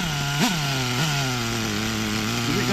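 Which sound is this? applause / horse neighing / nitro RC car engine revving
nitro RC car engine revving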